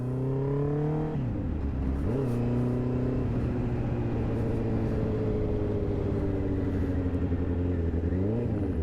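Honda CB650R motorcycle riding through Edmonton, the inline engine revving up and shifting through gears with rising and falling pitch, steady close-up engine drone and wind throughout, no talking.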